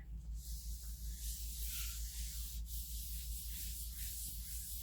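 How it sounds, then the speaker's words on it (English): Paper being rubbed over a gelli printing plate with a brayer, a steady close scratchy hiss of rubbing strokes in a continuous rhythm, with no talking. "rub it over, go over with your brayer again, peel it back."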